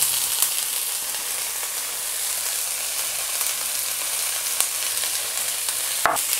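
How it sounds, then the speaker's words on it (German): Asparagus, garlic and spring onion rings sizzle steadily in hot oil in a pan, a continuous close frying hiss with a few brief clicks and scrapes, no voices. "Den Spargel werden wir jetzt ungefähr 3 bis 4 Minuten braten"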